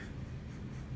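A pencil or crayon glides steadily across paper in one continuous curving stroke, a soft close scratchy rasp heard alone for about a second.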